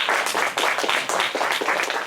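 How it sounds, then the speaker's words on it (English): Applause from a church congregation, a dense wash of many hands clapping that holds steady and fairly close for about two seconds with no voices over it. "Give the brother a round of applause and welcome."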